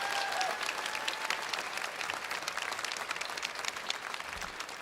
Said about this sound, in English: Another round of applause for Frank and everybody up here on the dais.